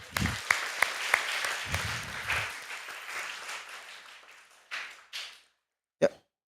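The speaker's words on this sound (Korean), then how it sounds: "우리 박수 한번 쳐, 박수 한번 쳐." A church congregation at a Friday prayer service claps together, a dense burst of applause that starts strong, thins out over several seconds and dies away, with a couple of brief louder sounds near the end.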